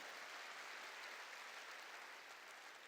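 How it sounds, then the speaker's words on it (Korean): A church congregation claps together to glorify God during a worship service, a steady, dense wash of many hands that is fairly soft and distant and runs the whole time with no voices. "박수로 하나님께 영광 돌리는 거예요."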